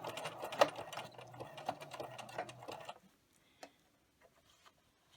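A sewing machine stitches a fleece strip down a center line for a loopy boa, a steady close whirring run that stops about three seconds in, leaving near silence with a few faint clicks.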